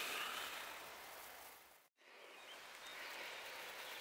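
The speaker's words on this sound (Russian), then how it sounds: "Итак, дождик все идет." Rain falling outdoors during a dig in the countryside, a steady hiss of drops that drops to brief silence at the midpoint, then resumes at the same even level.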